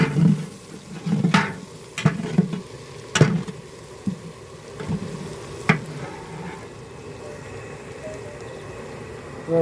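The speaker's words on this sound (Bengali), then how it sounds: "এখন আমাদের পেঁয়াজ রসুন সব ভাজা হচ্ছে।" Onion and garlic fry in a pan, with a soft sizzle beneath intermittent scraping and clattering as the pieces are stirred, busier at first and then quieter.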